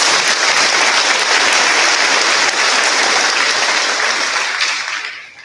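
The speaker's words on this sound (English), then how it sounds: "I think that deserves a round of applause." A graduation audience at a Class of 2021 cord ceremony applauds in a dense, steady roar of clapping that holds loud for several seconds and then fades out at the end.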